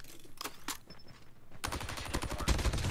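Dingo machine gun fire in a video game: a couple of isolated sharp shots, then a rapid, close, loud burst of automatic fire rattling to the end.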